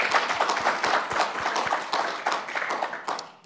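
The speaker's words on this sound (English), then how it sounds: "if we could have a round of applause" An in-person audience at a talk on bridging a plate tectonic boundary gives a round of applause, a modest crowd whose distinct claps patter irregularly and then taper off toward the end.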